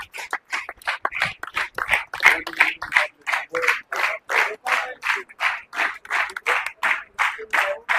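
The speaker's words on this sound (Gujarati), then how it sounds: "ખરેખર તાળીઓના ગણગણાટથી" A crowd applauds at a Green Army honour ceremony, with regular, evenly spaced claps in a steady rhythm, fairly close and clear, and no talking over them.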